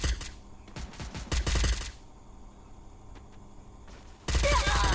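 Rapid bursts of automatic gunfire in a video game, loud rattling volleys that stop and restart, with a quieter gap in the middle.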